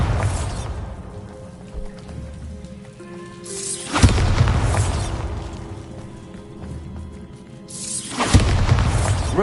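Bombarda spell cast in a video game, producing deep booming explosions that recur roughly every four seconds, each a loud burst fading into a rumbling, rain-like wash of debris.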